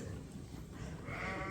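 A sheep bleats in a farm lambing pen, a close, wavering cry that swells and turns louder and more nasal near the end.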